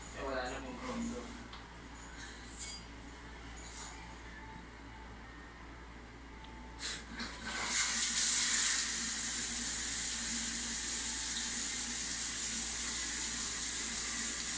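Water from a water heater tap runs as a steady broadband hiss, starting faint and swelling louder partway through, with people talking over it.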